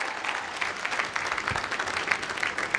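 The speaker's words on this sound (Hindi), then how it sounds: "मैं चाहूंगा इस इंडस्ट्रीज के लिए धमाकेदार ताली होनी चाहिए, धमाकेदार।" Lively applause from an audience at a business motivational event, steady dense clapping at moderate level throughout the short stretch with no talk.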